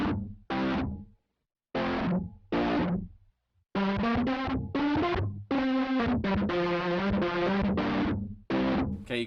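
Eventide Mangledverb app with its wobble effect engaged on a distorted, reverb-soaked instrument, playing a run of separate notes that give way to longer sustained, warbling tones, loud and alone.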